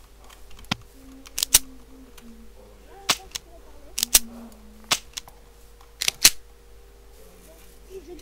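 Sharp toy-like pistol shots crack out in a Pixelmon Minecraft game, about a dozen separate snaps at irregular intervals, some in quick pairs, over faint tonal game sounds and quiet voices.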